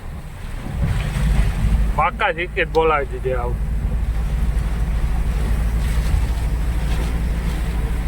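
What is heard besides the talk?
heavy rain falling on a truck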